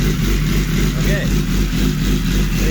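A superbike racing motorcycle with a freshly swapped engine and new tune holds a steady, close idle, its low pulsing note continuous, while a voice talks over it.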